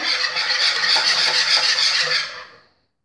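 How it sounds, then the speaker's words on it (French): A spoon stirs cream into a crème brûlée mixture made with petit beurre biscuits, giving a steady wet scraping and swishing against the bowl. The sound is close and continuous, then stops and leaves silence at the end. "On va mélanger."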